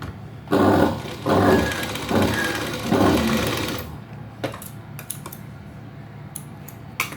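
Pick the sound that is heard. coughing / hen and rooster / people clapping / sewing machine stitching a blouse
sewing machine stitching a blouse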